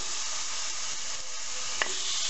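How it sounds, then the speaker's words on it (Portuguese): Cuts of meat for an ossobuco broth sautéing in a very hot pot give off a steady, loud, close sizzle, with one brief clink partway through. "Agora na panela bem quente, a gente vai refogar essas carnes"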